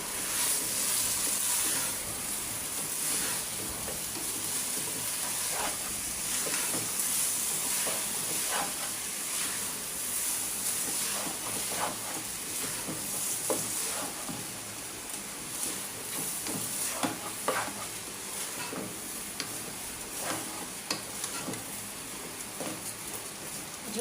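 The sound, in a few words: rice frying and being stirred with spices in pan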